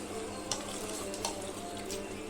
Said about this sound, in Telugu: దీన్ని ముక్కలు చిదిరవకుండా జాగ్రత్తగా ఇలా తిప్పుకోవాలండి